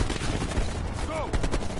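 Rapid automatic gunfire bursts crackle through a firefight in Call of Duty: Black Ops Cold War, loud and dense over about two seconds, with a voice shouting over the shots.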